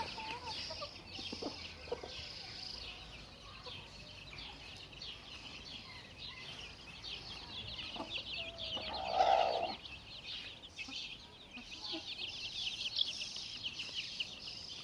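Hens cluck softly now and then against a constant outdoor hiss of insects, with one louder cluck partway through.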